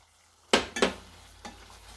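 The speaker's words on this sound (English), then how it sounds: "once we have this somewhat melted down, we're going to add our finely chopped" Finely chopped walnuts are stirred into melted butter in a pan for a cream cheese pasta shell sauce, with a couple of sharp scraping stirs followed by a softer one over a low, steady sizzle.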